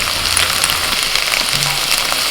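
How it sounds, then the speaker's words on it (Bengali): Potatoes and drumsticks frying in hot oil in a pan, a loud, steady, crackling sizzle that continues without a break and has no voices over it. "আলুটা মিনিট দুয়েক ভেজে নিয়ে দিয়ে দিচ্ছি সজনে ডাঁটা"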